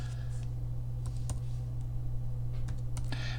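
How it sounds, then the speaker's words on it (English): Typing on a computer keyboard to enter a search term, heard as sparse, quiet key clicks in short bursts over a steady low electrical hum. "I'm going to type in Hurley"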